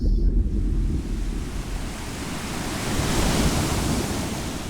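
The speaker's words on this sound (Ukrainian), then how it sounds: "хвилі могутнього океану" Ocean surf rolls in a steady, loud broadband wash, swelling gently toward the end with wind noise mixed in and no voices present.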